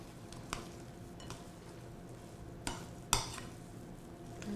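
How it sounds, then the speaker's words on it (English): Chocolate chips being folded into batter in a bowl for holiday baking, a quiet soft scraping and stirring with a few sharp taps of the spoon against the bowl. "I'm going to fold this all in together"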